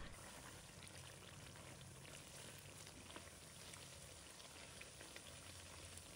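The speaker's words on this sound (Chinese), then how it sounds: "大约炸15分钟。" Garlic frying in oil in a wok for homemade chili sauce, a faint, steady, even sizzle and crackle that holds constant without any talk.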